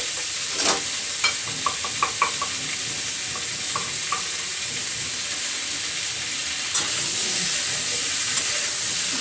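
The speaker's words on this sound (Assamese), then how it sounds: "ভালদৰে ভাজি ল'ম" Potatoes and cauliflower fry in a pan with a steady sizzling hiss, scattered soft clicks and taps of stirring, close and continuous without talking.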